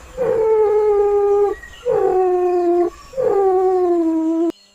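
Three long, loud animal howls rise and hold in the Colombian forest, each lasting over a second and separated by short pauses, with rich ringing overtones and no other sound in between.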